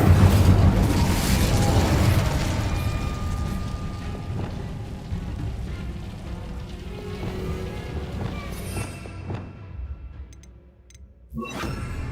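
A Bombarda blasting spell explodes in Hogwarts Legacy with a loud boom at the start that rumbles and fades over several seconds, followed by scattered smaller crackles and a sharp burst near the end.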